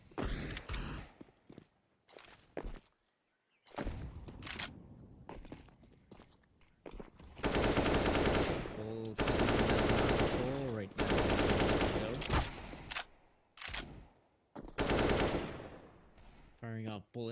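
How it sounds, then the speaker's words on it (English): Bursts of rifle and machine-gun fire from a Counter-Strike: Global Offensive competitive match, rapid volleys in long loud stretches with shorter pops, footsteps and gaps between, some talk underneath. "Firing off bullets, keeping the terrorists at bay, making sure that they're not going to move on through the smoke"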